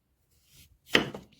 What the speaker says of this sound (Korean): 비트를 어떻게 잘라?